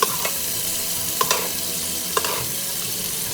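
A whole mutton leg fries in hot oil with a continuous dense sizzle, while a few sharp metallic clinks mark oil being spooned over the meat. No voices are heard.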